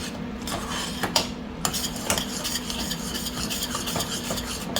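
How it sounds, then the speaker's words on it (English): A utensil stirs and scrapes through a shrimp dish in a pan, with soft repeated clinks and rubbing strokes at close range over a faint sizzle. "I'm just gonna stir this until it's combined really,"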